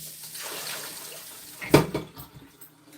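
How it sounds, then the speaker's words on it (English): Something being rinsed off under running water at a woodland home, a steady watery wash with a brief louder splash in the middle. "I'm just rinsing this off"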